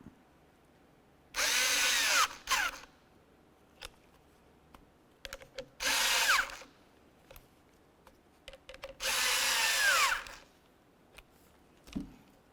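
A power drill snugs bolts during a heater blower motor replacement on a 2005-2010 Chevrolet Cobalt, with three separate whirring bursts of about a second each, separated by light clicks and handling noises close by.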